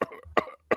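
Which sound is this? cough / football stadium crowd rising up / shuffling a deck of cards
cough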